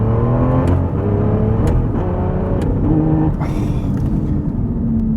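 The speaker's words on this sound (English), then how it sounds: "This is a flat shift." A 2016 Aston Martin V12 Vantage S engine pulls hard under acceleration, its loud, close rising drone broken by brief dips in pitch as gears change on a flat shift, with no talking over it.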